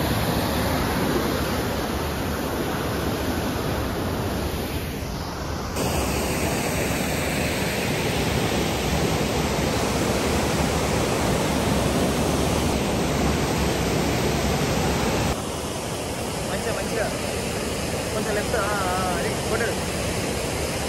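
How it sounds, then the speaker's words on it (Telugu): Water rushes steadily through a small dam in the Godavari delta, a continuous broad roar heard close by throughout, with wind buffeting the microphone. "ఇది మొత్తం నీళ్ళన్నీ పోతూనే ఉన్నాయి. పెంకలకి వస్తున్నాయి, కిందికి పోతున్నాయి మొత్తం నీళ్ళన్నీ."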